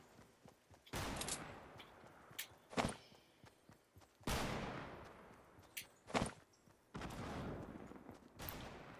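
Sniper rifle fire in Fortnite cracks out in a series of loud, sharp reports, each trailing off in a long echoing tail, spaced a second or two apart with lighter thuds between.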